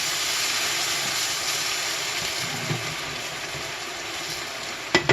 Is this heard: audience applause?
no